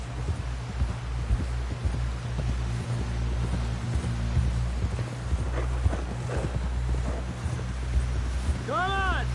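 Horse hooves clip-clop in Red Dead Redemption II as a rider pushes on toward camp, a steady rhythmic clatter under ongoing speech and ambient game sounds, closing with a short rising whistle-like call.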